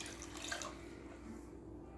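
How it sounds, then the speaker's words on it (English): Water poured into a pot of bean soup before pastina is cooked in it, a steady close splashing stream that eases off toward the end. "We're putting a little bit more water because in the end we're going to be cooking the pasta"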